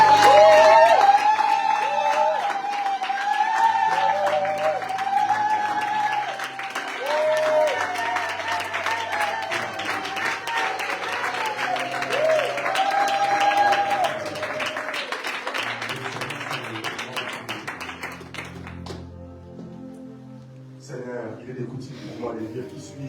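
A church congregation at a worship service applauds and cheers for an arriving pastor, a sustained wash of clapping with music and voices layered underneath, gradually fading toward the end.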